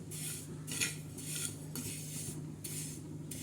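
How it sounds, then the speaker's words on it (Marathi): Sesame seeds dry-roasted on a tava, stirred with a metal spatula that gives repeated scraping strokes against the pan, moderately near with a low steady hum underneath. "तव्यावर असे भाजून घेणार आहे खरपूस असे तिळ आपण चांगले भाजून घेणार आहोत"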